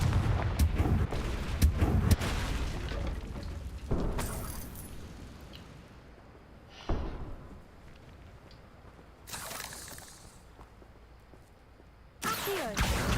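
Fiery Confringo spell blasts from Hogwarts Legacy burst as loud, broad explosive bangs in separated clusters, each decaying into a quieter rumbling tail.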